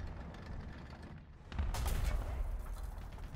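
A tank gun booms in the vehicle combat game War Thunder: one loud, heavy blast hits partway through, over a steady low engine rumble, with no one speaking.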